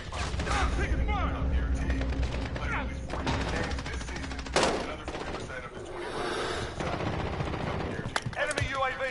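Dense, continuous gunfire fills a Call of Duty Modern Warfare match, with overlapping bursts and sharp shots beneath voices talking throughout.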